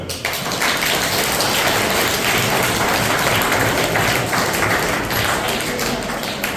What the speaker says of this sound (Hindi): इस बच्चे के लिए ताली बजाओ।